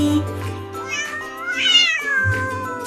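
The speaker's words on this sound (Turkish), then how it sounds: "This is a cat. Meow." A cat meows with a drawn-out, rising and falling cry, close by and clear over a faint low hum.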